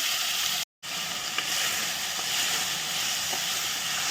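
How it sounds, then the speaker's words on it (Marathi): Turmeric, red chilli and pumpkin sauté in a hot pan, giving a steady close sizzle and hiss that runs throughout, broken by one brief silent gap near the start, with no voices. "इथं हळद लाल मिरची छान परतून घ्यायचं नंतर डांगर टाकायचं"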